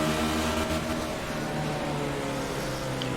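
The 19 Wolf Racing Dodge race car's engine runs in an SCRL Friday Night Thunder race in Iowa, a continuous, dense roar with no breaks, heard at a moderate distance amid the wash of track noise.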